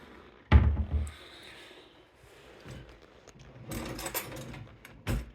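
Standard-closure kitchen drawers in a home with real wood cabinetry and Formica counters open and close, a sharp thump near the start followed by quieter sliding and a cluster of knocks and rattles, with no talking.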